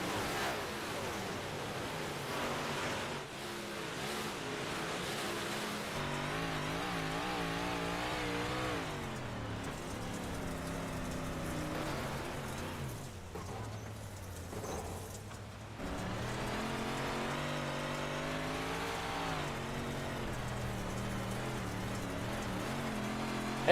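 Race cars circle the track at Lincoln during warm-ups, a steady, continuous engine roar with rising and falling revving, loud and unbroken, with no talk.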